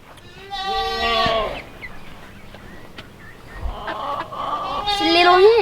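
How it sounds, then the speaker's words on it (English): A hen caught by a dog on a farm squawks loudly in harsh, rising bursts, first near the start and again near the end, with quieter animal sounds and some voices in between. "Oh, Houston caught a chicken."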